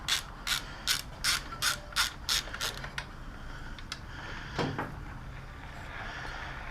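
A ratchet turning a 4mm Allen head bit on a Yamaha Super Tenere 1200 rear shock clicks in about eight quick, evenly spaced strokes up close, followed by a few scattered metallic creaks and clanks.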